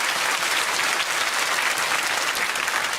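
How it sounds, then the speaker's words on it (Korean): Church congregation at a special early-morning revival service breaks into dense, loud applause, a steady roar of many hands clapping with no pauses. "박수로 한번 감사를 표해 주시면 좋겠습니다."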